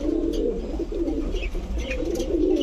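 Steady low cooing from several pigeons nearby, among them Budapest, Saharanpuri, racer and Giribaz birds, rising and falling in overlapping rolling calls with no voices over them.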